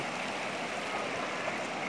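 A stream of cold, clear water flowing in a Kashmir valley, a steady even rush and gurgle with no pauses, moderately quiet and with no voices.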